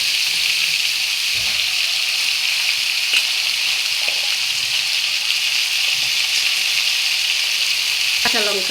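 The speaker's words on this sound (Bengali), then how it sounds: "এখন পুঁই শাকটা দিয়ে দেবো" Malabar spinach sizzles and fries in a pan for a mixed vegetable dish, a loud constant crackling hiss with a few soft clinks and stirring knocks, and no talking.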